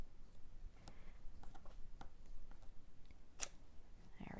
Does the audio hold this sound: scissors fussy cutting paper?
yes